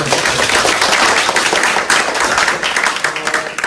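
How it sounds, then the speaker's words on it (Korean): A lecture audience gives dense, sustained applause after a talk on a classical Korean text, loud and continuous throughout with no break. "너무나 멋진 강연을 해주신 우리 맥파레그 교수님께 또 다시 한번 박수"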